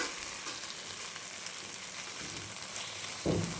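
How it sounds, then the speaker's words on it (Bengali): Butter sizzling as it melts into a hot pan of paneer: a continuous, even frying hiss throughout, with a louder burst of crackle near the end, no talking. "এখন মা এর মধ্যে বাটার দিয়ে দিচ্ছি"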